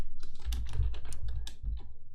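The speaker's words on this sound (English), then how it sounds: "So let's start by typing the message" Rapid, steady typing on a computer keyboard, a dense run of soft clicks heard up close with no voices.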